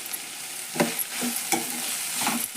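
Sprouted moth bean curry is stirred in a pan, with a soft continuous sizzle and several scraping strokes of the spoon at an uneven rhythm, close and moderately loud.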